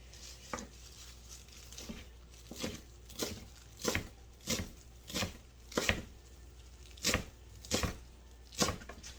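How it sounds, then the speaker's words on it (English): Knife finely chopping leftover parsley on a cutting board, about fourteen crisp, fairly even strokes in a steady rhythm, heard close and alone. "Chop this as finely as you can."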